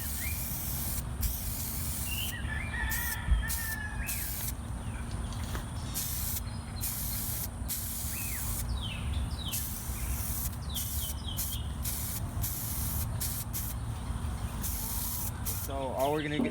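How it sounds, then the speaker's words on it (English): Aerosol adhesive promoter sprayed onto a trailer during restoration: repeated bursts of sharp hissing spray, some long and some short, over a constant low background hum, with a few faint bird chirps. "What we're gonna put on next is a adhesive promoter."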